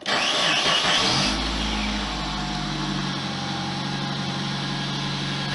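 A 2006 Suzuki Aerio engine, air box off, cranks with a whirring starter, catches, and settles into a steady, loud idle rumble.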